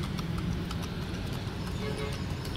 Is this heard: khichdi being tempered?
no